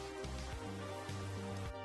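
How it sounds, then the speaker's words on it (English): Video game rain falls as a quiet, continuous hiss of drops with faint low tonal hum underneath. "Yeah, it's raining!"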